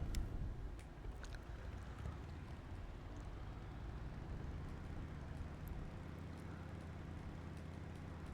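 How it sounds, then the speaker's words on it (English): A motorcycle ridden in the video game Once Human, heard as a low, steady engine rumble that holds fairly constant and faint throughout. "Use my motorcycle."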